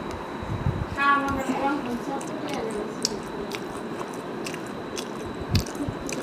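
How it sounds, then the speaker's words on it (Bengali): Puffed rice (muri) crunches softly between the teeth, close and repeated in a loose chewing rhythm against a noisy indoor background, with a few sharper bites standing out. "আমি মুড়ি খাই ফেলাইতেছি সব"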